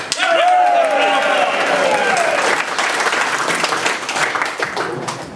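A live convention audience applauds the script readers after a panel, dense steady clapping filling the room loudly, with a few voices and whoops mixed in, then tapering slightly toward the end.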